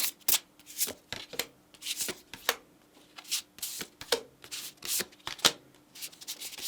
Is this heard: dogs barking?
no